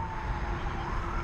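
Ambulance siren wailing somewhere on a mountain road, a steady rising-and-falling tone held over low rumbling traffic noise, moderately distant and continuous.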